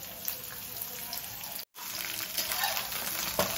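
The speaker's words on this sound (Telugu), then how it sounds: "ఈ విధంగా అన్ని కాకరకాయలు వేసి మంచి బ్రౌన్ కలర్ వచ్చిన దాకా వేయించుకోండి." Whole bitter gourds frying in a generous amount of oil in a pan, a steady close crackling sizzle with a brief dropout partway through.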